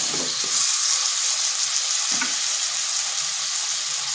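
Chopped tomatoes with turmeric powder and salt fry in a pan for a potato and pointed-gourd vegetarian curry, making a steady, close hiss of sizzling oil with a faint stir or two and no talking.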